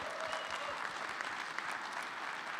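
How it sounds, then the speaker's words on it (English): Audience applause filling a room during a conference panel on decentralization, steady clapping from a crowd sustained throughout without talk. "could we just get a round of applause for decentralization in the room right now?"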